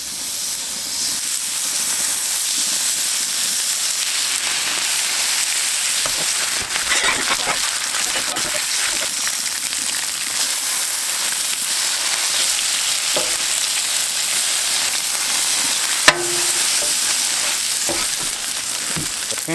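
Bacon fries in a pan outdoors in the woods with a loud, steady sizzle and hiss, continuous crackling spatter and a few sharper pops. No one speaks.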